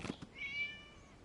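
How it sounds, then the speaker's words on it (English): A single thin, high cat meow sounds in Genshin Impact during a night festival scene, fairly close and clear, following a couple of soft taps and fading out quietly. "It was just a cat."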